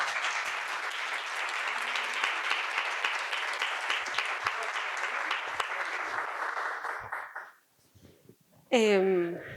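Audience applause welcoming a guest speaker at a talk, a dense steady round of clapping for about seven seconds that fades to near silence before a voice begins speaking.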